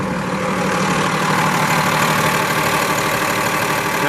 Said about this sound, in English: we're gonna open up the engine hood and let you hear it run.